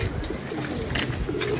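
Pigeons kept on a rooftop loft coo softly and steadily over a faint background hum, with low, rounded calls repeating throughout.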